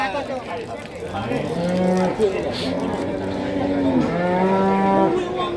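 A white PO (Ongole crossbred) cow moos repeatedly in long, low, drawn-out calls, loud and close, with faint murmuring in the background at the Babat cattle market, Lamongan.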